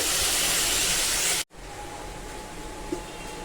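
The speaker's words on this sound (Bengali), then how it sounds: "এখন হচ্ছে এর ভিতরে দিয়ে দেব পানি।" A loud steaming hiss of water poured into a hot pot of khichuri, cut off abruptly, leaving a quieter lingering simmer with a faint tone.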